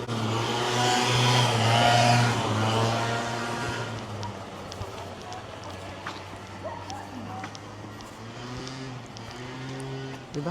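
A motorcycle engine revving close by on a street in Germany, loud for the first few seconds, then fading into background traffic while people chat in several languages.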